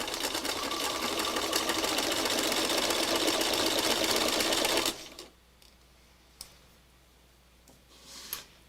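A sewing machine stitches fabric in a steady, loud mechanical whir for about five seconds, then stops abruptly, leaving quiet room tone with a few faint clicks and small handling noises.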